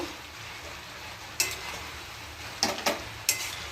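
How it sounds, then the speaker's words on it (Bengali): Spice paste with cumin, ginger, and ripe and green chillies sautés in a pan with a low steady sizzle, broken by a few sharp scrapes and clinks of a spoon against the metal, close and without talk. "বাটনা দিয়ে দিয়েছি, জিরে আদা আর পাকা লঙ্কা ছিল তাই দিয়ে দিয়েছে, কাঁচা লঙ্কাও দিয়ে দিয়েছি। ভালো করে কষে নেব।"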